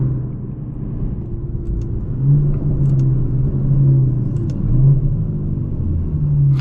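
An Aston Martin DB11 V12 pulls hard under throttle from inside the cabin, a steady deep engine drone that swells and surges in waves, with a few faint light clicks on top.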